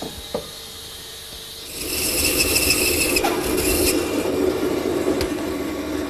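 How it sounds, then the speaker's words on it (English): A hand miter box saw cuts through wood for a chaise lounge leg, a steady rasping stroke that starts after a quiet pause and runs continuously to the end, fairly close and alone. "Now I'll swing the miter box to zero and make the final cut."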